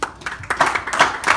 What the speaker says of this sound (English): He's good God. Give him a hand clap.